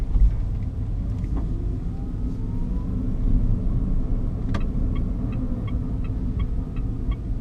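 Mitsubishi i-MiEV electric car rolling along on a quiet ride, with a steady low road rumble and faint tire noise, plus a few small ticks and beeps toward the end.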